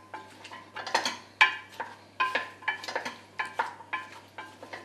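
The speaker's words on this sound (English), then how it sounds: "we saute everything together for about 10 minutes, just making sure that it's all the onion and the oil is stirred through the" Onions and vegetables sauté in oil while a utensil stirs them in a pan for lentil soup, producing about ten close, regular scraping and clattering strokes over a faint steady hum, with no talking.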